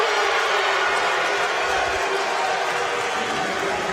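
A dense roar from the Oswego home crowd at a SUNYAC first-round women's basketball game against SUNY Oneonta, loud and sustained cheering filling the gym throughout.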